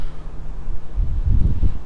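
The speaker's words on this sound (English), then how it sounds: "So it's very windy today." Strong wind gusting across a stadium construction site high above the cranes, a low rumbling buffet against the microphone that swells and surges louder in the second half.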